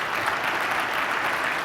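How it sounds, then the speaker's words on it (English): Audience applause at a professional association conference, a steady wash of clapping from a large crowd, close and loud for the whole stretch with no break. "I think they deserve your round of applause."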